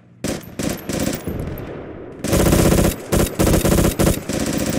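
An MG34 machine gun fires in Project Reality in loud, close bursts, with a short burst, a sustained stretch of rapid fire and several more bursts, and no talk.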